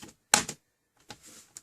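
Plastic snap clips of an HP 15-ab277cl laptop case popping loose as a card is slid along the seam: two sharp clicking bursts, a loud one early and a softer cluster later, separated by quiet, close up.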